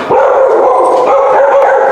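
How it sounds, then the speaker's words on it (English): A dog indoors on a snowy day lets out a sustained, loud, close bark-howl that fills the whole moment and is heard alone without any talk. "Then our dog barks."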